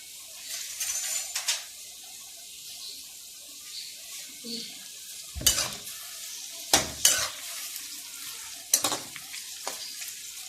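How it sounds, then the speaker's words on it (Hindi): Sliced bitter gourd (karela) fries in an oiled pan in a home kitchen, a continuous soft sizzle broken by several loud scrapes and clinks of a spatula stirring against the metal. "करेले हो रहे हैं फ्राई"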